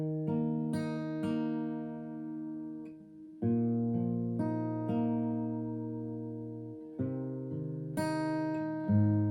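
Acoustic guitar fingerpicked at full speed in a thumb, thumb, middle, pointer pattern, ringing chords that change every few seconds with clear plucked note attacks and sustained harmonics, close and alone with no talking.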